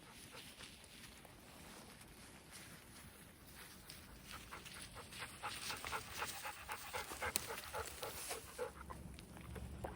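A dog named Echo pants steadily outdoors on grass among pine trees, the quick rhythmic breaths close and continuous, growing a little louder and heavier toward the end.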